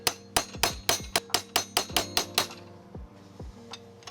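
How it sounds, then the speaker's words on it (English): Steel hammer blows drive a chisel against the end nut and tab washer of a lower wishbone on an Alfa Romeo 105/115, about ten sharp ringing metallic strikes in quick steady rhythm, then a few lighter taps, close and clear with no talking. "I then used a chisel to release the end nut from the tab washer."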